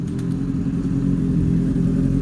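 A motorcycle engine revs close by, its loud, low, throaty drone holding strong for a couple of seconds with slight surges and no talking.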